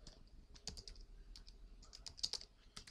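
Quiet, rapid clicking of keys on a computer keyboard as a command is typed, with uneven bursts of keystrokes and short pauses, close and soft.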